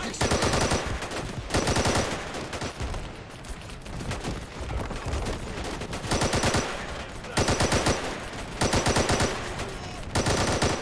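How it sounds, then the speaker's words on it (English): Heavy automatic cannon fire rattles in rapid, loud bursts with brief pauses between volleys, dense and continuous across the whole stretch, in the Call to Arms video game. "that auto cannon fire, by the way, is not coming from the BMP"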